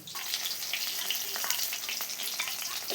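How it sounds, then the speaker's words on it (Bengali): Rui fish pieces fry in hot oil in a pan, giving a steady, close sizzle with crackling pops throughout and no talking. "সবগুলো মাছে আমি তুলে নেব ভেজে"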